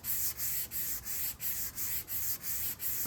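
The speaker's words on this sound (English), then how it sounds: "Am I sanding this too much?" A guitar body from a Fesley kit being hand-sanded during refinishing, with regular back-and-forth rasping strokes, about eight even passes in three seconds, close and moderately loud, with no talk.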